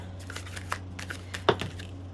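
Tarot cards shuffled and drawn during a reading, with soft riffling flicks and light taps close by and one sharper snap as a card is pulled, no talking.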